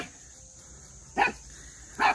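A dog at a forest hut gives two sharp barks about a second apart, fairly close and clear over a quiet outdoor background.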